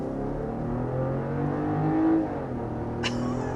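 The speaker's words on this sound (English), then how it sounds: "So I'll go ahead and slow down to our usual 55 miles an hour and let Mason get our sound level reading." A 2023 BMW X7 SUV with air suspension and 21-inch wheels cruises on the road, giving a steady low engine and road hum that eases as it slows, with a brief sharp higher whine near the end.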